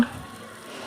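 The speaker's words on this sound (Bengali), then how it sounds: "চালটাকে আমি ভাজা ভাজা করব" Rice grains tossed with cooked-down spices in a pan for fish-head muri ghonto, frying with a soft steady sizzle and light stirring, close and fairly quiet, with no talk.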